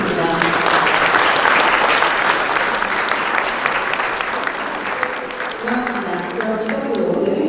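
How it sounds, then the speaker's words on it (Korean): Students, parents and teachers at a diary exhibition ceremony give long, loud applause: thick, continuous crowd clapping with faint voices mixed in, fading slightly before swelling again. "서로를 향해서 큰 박수 부탁드립니다"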